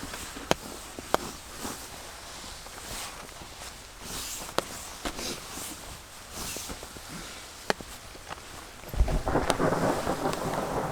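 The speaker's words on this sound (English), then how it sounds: "It's obviously still raining quite a bit. But I think the bulk of the storm has passed." A storm in Utah, with steady rain and sharp, isolated cracks, then a rush of heavier rain pouring down near the end, no voices.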